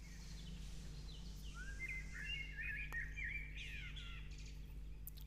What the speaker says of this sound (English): I think you can hear the birds now